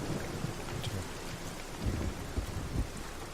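Rainstorm in the video game Everybody's Gone to the Rapture: a steady hiss of rain with low rolling thunder that swells in several soft rumbles, the nearest near the end.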